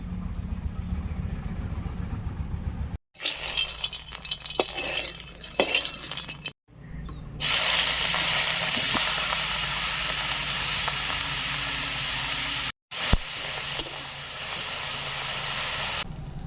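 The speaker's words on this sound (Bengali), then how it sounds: "কড়াই গরম হয়ে গেছে মাছ ভাজার জন্য তেল দিয়ে দেবো" A loud, sustained sizzling hiss of fish frying in hot oil in a wok, interrupted by several abrupt cuts, with faint clatter in the quieter opening section.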